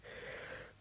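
A cartoon character lets out a drawn-out, breathy yawn, a single wheezy exhale lasting under a second, close and clear with no talk over it.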